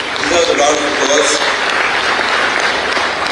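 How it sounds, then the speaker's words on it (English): Crowd at a football award ceremony held by a regional football association applauds, broad clapping filling the room while a voice speaks faintly over the start. "I think that deserves a round of applause"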